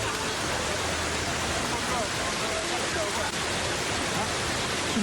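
Fast, heavy river current after a flash flood in Aceh, a dense, steady broadband roar that stays loud and unbroken throughout.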